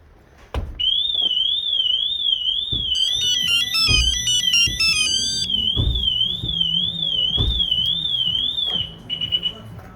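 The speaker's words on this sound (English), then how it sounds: "Even your pager will give you that notification." A Pandora Light Pro car alarm's pager notification tone warbles loudly and steadily up and down for several seconds, joined briefly by a rapid beeping pattern, over faint background thumps.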